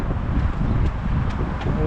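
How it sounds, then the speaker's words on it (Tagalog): Gusts of wind buffet the microphone with low rumbling thumps, close and continuous, with no clear speech. "Mahangin kasi."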